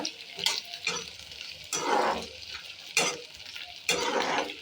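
Onion or spices being browned in a pan while making a dish from leftover idli, with a hiss and scattered stirring scrapes rising in short bursts, close and moderately loud.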